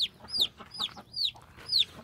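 Several chickens cluck and squawk close by in a country coop in short repeated bursts, with a quiet murmur of other birds and chicks underneath.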